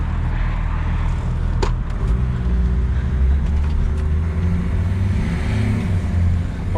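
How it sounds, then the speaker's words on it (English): A Toyota FJ75 Troopcarrier with a 300hp M57 engine drones steadily from inside the cab, with a low, continuous engine and road rumble and faint brief clicks as it shifts gears. "Oh, it changes gears now."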